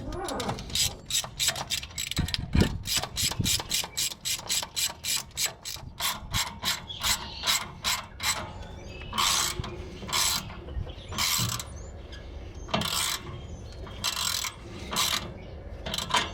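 A hand ratchet clicks rapidly and steadily up close while tightening the air intake onto the turbo of a 12-valve Cummins diesel, its strokes slowing into separated bursts toward the end.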